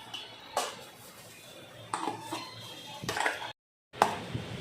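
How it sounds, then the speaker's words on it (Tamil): Dal is mixed into wheat flour roasted in ghee for Ashoka halwa, heard as a handful of distinct metal scrapes and clinks of a spoon against the pan, separated by quieter gaps and one brief silence. "இப்போ இந்த பருப்பையும் போட்டு நல்லா மிக்ஸ் பண்ணிக்குவோம்."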